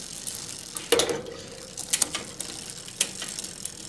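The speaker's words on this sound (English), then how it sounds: "Shift into the smallest cog, and we'll start just going up one gear at a time." A bicycle rear derailleur shifts up one gear at a time from the smallest cog, giving a few distinct mechanical clicks and brief ratcheting rattles over a quiet, faint freewheel ticking, with no voices.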